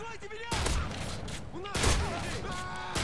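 Two heavy gunshots in the video game MW3, each a sharp loud crack with a rolling echo, spaced about a second apart over a background of game music and a faint voice.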